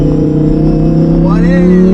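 A Lamborghini Huracan Performante S engine holding mid revs, a loud steady droning harmonic note from inside the cabin with a brief rising sweep near the end, while someone speaks over it.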